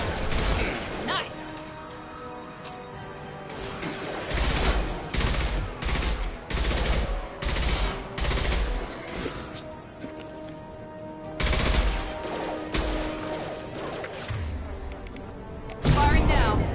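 Bursts of gunfire from the video game Mass Effect 2, loud and close, with repeated rapid volleys and impacts separated by brief pauses, mixed with game music and occasional speech.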